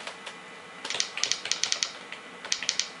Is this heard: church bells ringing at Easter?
no